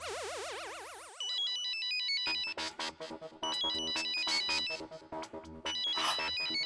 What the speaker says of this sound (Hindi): ममता आंटी का फोन है।